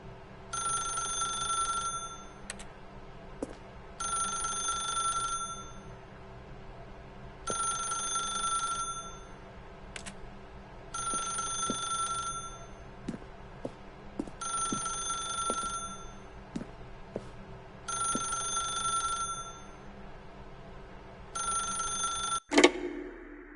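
A telephone rings in the video game The Stanley Parable, seven evenly spaced bell bursts separated by short gaps, clear and alone, ending with a sharp click.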